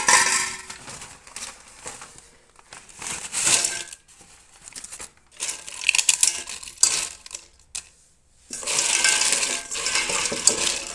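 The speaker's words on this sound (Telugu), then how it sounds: "చూడండి వాటర్లోకి వేసేద్దామండి జొన్న ముక్కలన్నీ" Broken pieces of jowar roti are dropped into a container of water in several bursts of light clattering and rustling, separated by short quiet gaps.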